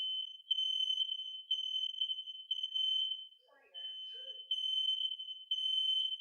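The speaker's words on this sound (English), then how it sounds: "Our fire alarm is going off." A fire alarm sounds indoors in a steady, loud, high-pitched pulsing pattern of long beeps, pausing briefly while a voice speaks, then carrying on.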